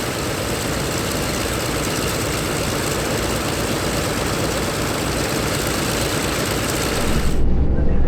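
Douglas DC-6 piston engines run steadily on the ground during an annual inspection, a loud continuous roar with deep rumble and propeller drone that surges slightly near the end.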